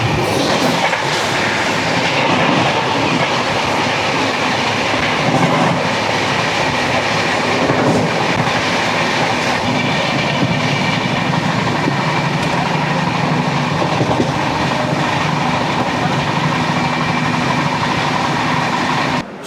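A 12551 SMVT Bengaluru–Kamakhya AC Superfast Express rushes past at close range, a loud, steady roar of rolling coaches with rhythmic clickety-clack of wheels over rail joints, sustained the whole way without talk.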